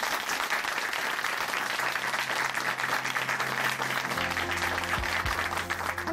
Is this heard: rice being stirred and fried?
no